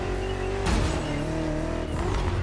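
A BMW M CS engine driving in The Crew Motorfest, a continuous loud revving drone with a shift-like pitch drop and climb partway through, no talk over it.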